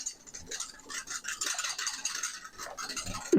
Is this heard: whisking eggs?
yes